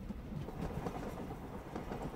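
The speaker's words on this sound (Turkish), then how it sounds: "Kaçak tren yolculuğu." A train ride in Spider-Man: Miles Morales, with a steady low rumble of rail cars and faint clickety-clack running evenly throughout, fairly quiet and with no talking.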